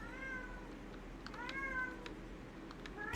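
A house cat meows repeatedly, about four or five drawn-out calls at a fairly even pace, close by and clear over a low indoor hum.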